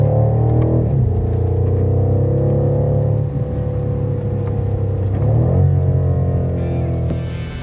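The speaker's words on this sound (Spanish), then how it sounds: "Lo que más me ha gustado de largo de este coche es el sonido del motor V8." A BMW M550i xDrive twin-turbo V8 rumbles and revs under load, pitch climbing, dipping at gear changes around one and five seconds, then climbing again, loud and close with no talk.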